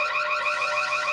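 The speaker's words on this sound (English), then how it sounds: "It's a fire alarm." A school fire alarm sounds, a loud steady electronic tone with a fast pulsing warble, unbroken for the whole short stretch.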